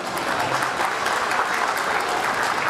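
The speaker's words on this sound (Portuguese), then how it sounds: "Uma salva de palmas, por favor." Steady applause from a crowd at an awards ceremony, dense continuous clapping that holds at an even level throughout without pause.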